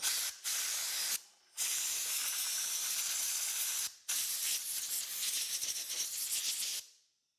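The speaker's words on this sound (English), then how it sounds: "hopefully we can blow some of this gunk out of the bearing there" Compressed air blasts gunk out of a bearing on a Rad Power electric bike, loud hissing bursts in three spurts separated by brief pauses, the last trailing off into silence.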